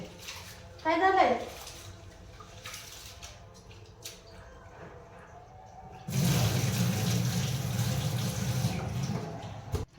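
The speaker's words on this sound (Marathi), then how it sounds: "चांगले 3-4 पाण्याने स्वच्छ चोळून धुवून घेते" Grains are rubbed and rinsed by hand in several changes of water in a home kitchen before soaking, with splashing and sloshing early on, then a louder, steady rush of running water over the second half; a voice is briefly heard.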